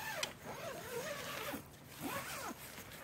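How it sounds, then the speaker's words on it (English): Zippers being pulled on a Geertop one-person tactical bivvy tent, two close rasping zip strokes with fabric rustle in between. "So it has two zippers right here."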